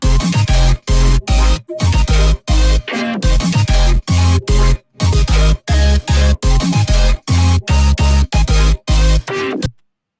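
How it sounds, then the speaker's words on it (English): A loud, gritty future riddim bass drop, resampled, hammers in choppy, stuttering bursts separated by abrupt gaps, with no drums behind it. "we get basically the full version of this drop minus the drums"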